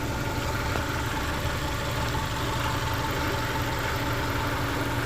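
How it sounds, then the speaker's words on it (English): A car engine idles steadily with a metallic vibration from the exhaust, a constant close rumble with a buzzing rattle layered in and no pauses. "There is a metallic vibration sound that I suspect, again, is the exhaust"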